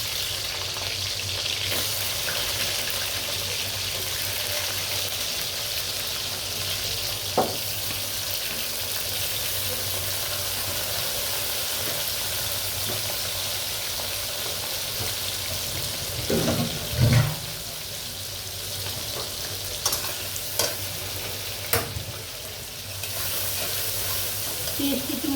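Onions and whole garam masala fry in hot oil for a wedding-style beef rezala, a steady close sizzle running throughout with occasional stirring clatters and clinks.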